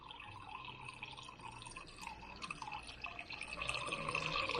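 Water runs from a newly replaced multi-turn valve on an ice maker supply line, a faint, steady trickle with light drips and splashes in a quiet room.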